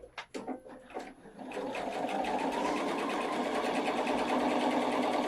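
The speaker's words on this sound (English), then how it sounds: "it only sewed in reverse as long as I was pushing the button" A Pfaff 710/720 sewing machine runs steadily and close by after a few opening clicks and thumps, stitching in reverse and then forward with a fast, even whirring rhythm and no talk.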